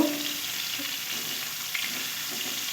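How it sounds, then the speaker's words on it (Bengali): Shrimp frying in a pan, a steady, even sizzle holding at moderate level close by, with no one talking over it. "চিংড়ি মাছগুলো আমি ভেজে তুলে নিলাম"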